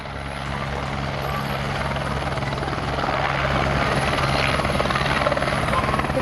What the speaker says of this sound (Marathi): एक हेलिकॉप्टर इमर्जन्सी लँड करण्यात आलं।